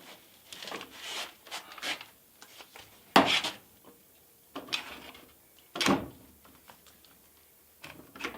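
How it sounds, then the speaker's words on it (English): Hand-sanding wood overrun on shelving with sandpaper, heard as several short, close rasping strokes separated by pauses, with no talking. "Do I worry too much about the overrun? I do not, because I sand it right off."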